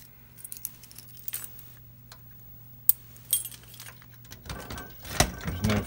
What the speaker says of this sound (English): Where's the keys?